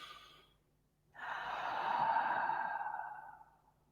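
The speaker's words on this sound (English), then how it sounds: "you can just do a silent exhalation and it sounds like this" A quiet, breathy exhalation through the open mouth, used as a calming breathing technique for anxiety before speaking in public. A short soft breath comes first, then after a pause one long, steady airy exhale that fades out. No talking.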